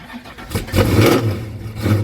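An engine on another of the owner's Pontiac cars cranks briefly, catches and revs loudly close by, the rumble pulsing as it is throttled up to drive off.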